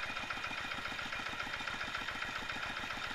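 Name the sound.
diesel car engine idling smoothly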